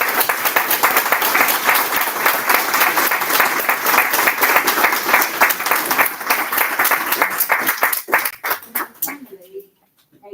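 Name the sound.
round of applause for staff and tutors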